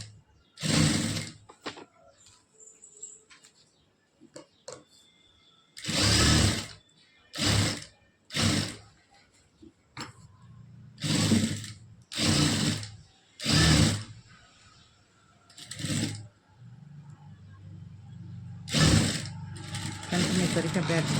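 A sewing machine stitches a blouse in repeated loud, close bursts of rapid mechanical clatter, each lasting a second or so, separated by pauses. A voice talks quietly in the gaps.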